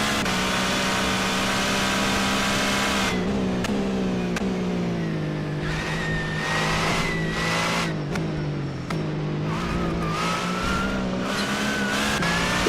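Peugeot 407 WTCC race car engine in a sim racing game, running loud and steady with high revs throughout, pitch dipping and climbing through gear changes and lifts, with no talk over it.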